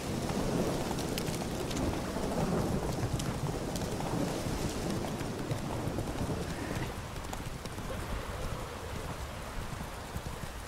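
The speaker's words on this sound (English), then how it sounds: "Lightning strike." A storm rumbles with steady heavy rain and deep, rolling thunder, a dense continuous wash of noise with no clear single crack standing out.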